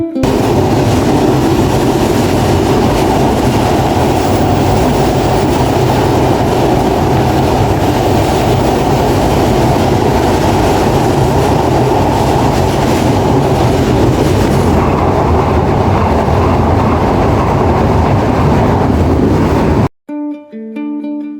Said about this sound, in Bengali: ট্রেনটি খুব দ্রুতগামী স্পিডে চলে যাচ্ছে পদ্মা সেতুর বুকে